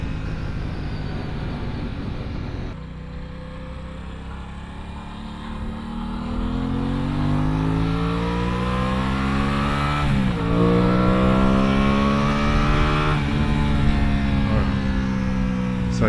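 An Aprilia Tuono 660 motorcycle accelerating hard, its engine note rising steadily through the gears with a brief shift dip, loud and close from start to finish.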